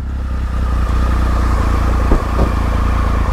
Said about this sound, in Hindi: थोड़ा सा डीपर एग्जॉस्ट नोट है इसका